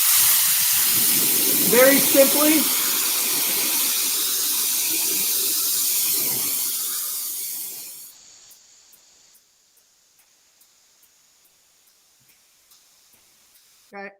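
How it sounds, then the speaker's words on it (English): An aerosol spray device hisses steadily onto a person's arm for several seconds, a broad airy rush under a speaking voice, then cuts off abruptly into near silence with faint ticks. "I'm going to go ahead and spray my arm"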